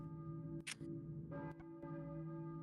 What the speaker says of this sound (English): And now we hear a church bell going off